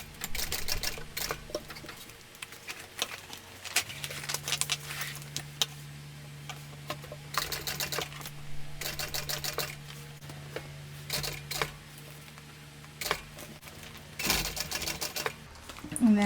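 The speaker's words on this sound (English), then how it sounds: "I'm going to start by sewing across that line." A home sewing machine stitches across a marked line on a tote bag in short bursts of quick, close rattling stitches separated by pauses, with a steady low motor hum in between.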